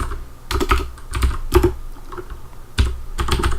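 Fast typing on a computer keyboard, close and clear, with bursts of rapid key clicks separated by brief pauses.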